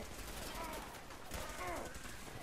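Robot enemies fire guns in a video game, heard as faint, rapid bursts of gunfire spread across a dim, busy background.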